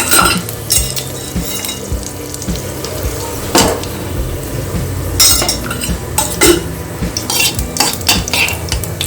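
Whole spices sizzle in ghee and oil for a capsicum and potato curry, a steady frying hiss broken by sharp metal clinks and scraping stirs from a spoon against the pan. No voices are heard.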